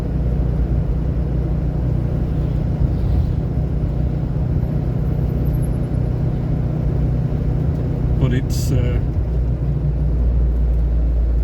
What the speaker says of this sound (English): driving this weird old car at 90 kilometers per